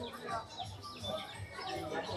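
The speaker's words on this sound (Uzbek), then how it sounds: "Mana akalar o'rdakchalar." Faint, high peeping of ducklings at a crowded poultry market, scattered chirps mixed with other fowl calls and nearby chatter.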